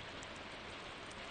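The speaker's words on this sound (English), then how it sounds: "It's raining in the fall" Rain falls in the farming video game Stardew Valley during fall, a steady, soft, hissing patter with no other sounds.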